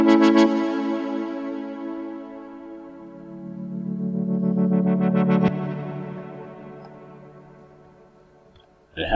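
A sustained synthesizer pad made in NI Massive slowly swells and shifts in tone, its texture moving and pulsing before fading out, with a brief sound at the very end.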